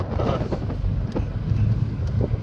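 Steady wind buffets a microphone outdoors, a low constant rumble with gusty swells, with a Mazda RX-8 drift car's engine droning underneath.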